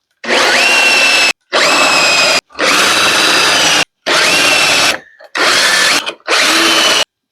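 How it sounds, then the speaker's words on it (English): Power drill boring dowel holes into a wooden table breadboard end, six close, loud whining bursts with short gaps between them. "So I'm going to put one dowel hole here, two in this one, two in this one,"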